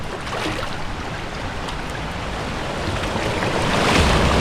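Rushing floodwater pumping through an outdoor wilderness spot, a loud, broad, unbroken roar that swells slightly toward the end, heard alone without voices.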